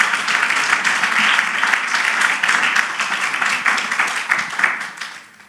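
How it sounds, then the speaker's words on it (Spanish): Congregation in a church sermon gives an ovation, brisk many-handed clapping at close range that holds steady, then thins and fades out at the end. "¿Cuántos quieren en esta hora darle un aplauso a Dios por su corazón?"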